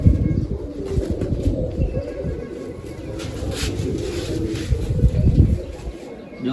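Several pigeons in a fancy pigeon loft give low, throaty coos that overlap and swell in soft rolling waves, close and fairly loud, with faint higher chirps above.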